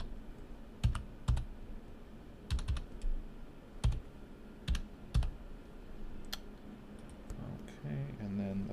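A username being typed on a computer keyboard while setting up a VPN in Debian 9.0, a few scattered soft key clicks in short bursts, faint and close, with quiet background and brief light sounds near the end.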